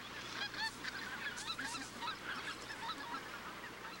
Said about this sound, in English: a tumult of calls as everywhere birds court, establish territories, and mate